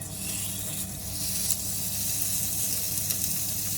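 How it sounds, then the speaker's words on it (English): Strip steak sizzles steadily on a hot Tefal OptiGrill XL, a continuous close crackling hiss with faint pops and no talk. "I'm going to lay my pieces of strip steak"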